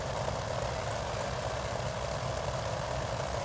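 Continuous low droning aircraft engine heard from inside the cockpit in a flight video game, a steady rumbling hum with no change in pitch or level, caused by a sound bug.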